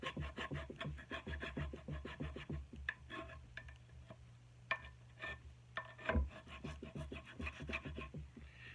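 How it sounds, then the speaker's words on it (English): Wood is being shaped to round off the sharp edge of a boy's wooden axe handle, giving close, rapid, rhythmic scraping strokes in steady bursts with a few brief pauses. "That's all we're doing now is taking off that sharp edge along there, and you can see the difference it makes."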